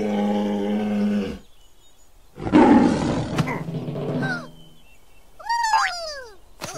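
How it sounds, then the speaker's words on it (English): In a children's vocabulary cartoon, a scary bear jumping out of a forest lets out loud growling roars in separate bursts, mixed with cartoon sound effects and swooping tones. "A scary bear jumped out of the forest."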